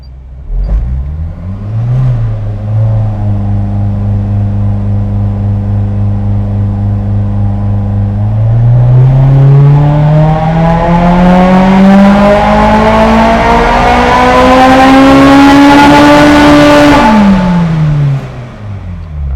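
A Kraftwerks-supercharged Honda S2000 engine idles, then makes one loud dyno pull, its pitch rising steadily to a high scream before dropping off abruptly, close up and alone.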